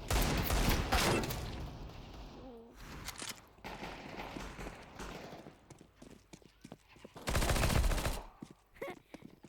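Gunfire in a Counter-Strike 2 deathmatch video game, with several loud bursts of rapid shots separated by quieter stretches of scattered game effects and brief sounds.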